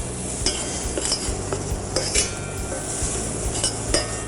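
Broccoli and spices cooking in a hot pan, a continuous sizzle broken by the regular clink and scrape of a utensil stirring against the pan, close by and with no voices.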